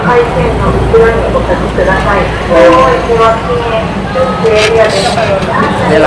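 A train rumbles steadily nearby arriving at the Mae Klong railway market, with rattling carriages and brief horn toots, while people talk over the constant mechanical din.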